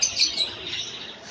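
Budgerigars chirp at a bird market, a brief burst of small, bright tweets close by over a soft busy background.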